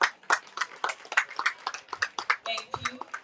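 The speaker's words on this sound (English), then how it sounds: "Please let's clap for our chairman." Close, irregular handclaps at a school graduation and anniversary ceremony as the chairman is welcomed, with scattered claps and a brief voice or tone near the end.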